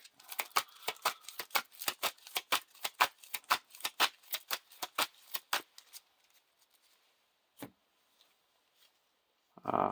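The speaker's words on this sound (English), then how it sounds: "shuffle this back into the encounter deck" Rapid riffle of playing cards from a Lord of the Rings card game encounter deck being shuffled, a dense run of crisp snaps for about six seconds, then a few isolated taps and a brief soft rustle.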